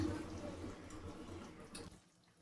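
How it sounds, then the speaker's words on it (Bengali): A bowl that held cornflour is rinsed under running water in a home kitchen, a soft brief splashing wash that cuts off abruptly. "কর্নফ্লাওয়ার বাটিটা ধুয়ে আমি 1 বাটি জল দিয়ে দিলাম এর মধ্যে।"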